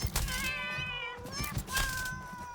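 A ginger cat in the Satisfactory video game lets out a couple of drawn-out meows, clear and close, with a brief dull thump in between.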